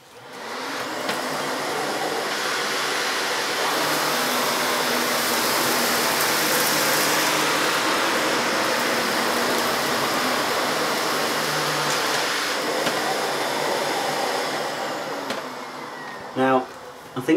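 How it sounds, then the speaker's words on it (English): A Miele hybrid vacuum cleaner runs at maximum power with its AccuNova head, a loud, steady whooshing drone that spins up at the start and cuts off near the end, followed by a few brief knocks. "So again, maximum power on the vacuum."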